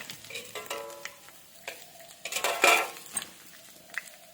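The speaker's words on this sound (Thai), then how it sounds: "ลุยขึ้นมาที่ข้างขอบกระทะ" Mee sua noodles are stir-fried in a wok, with a metal spatula scraping and clanking against the pan in irregular bursts over a soft sizzle. Several sharp clinks land near the middle, then the stirring settles into quieter scrapes.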